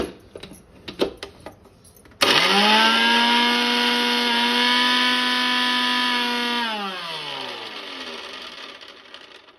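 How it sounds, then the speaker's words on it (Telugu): A kitchen mixer grinder blending green chillies, salt and coriander for chutney starts abruptly after a few light clinks, whining loudly and steadily before its pitch drops as it winds down. "ఇది మిక్సీ చేసుకుందాం ముందు"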